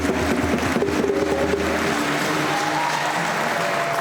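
A congregation at a requiem mass breaks into loud sustained applause, dense clapping from a large crowd that holds steady for about four seconds.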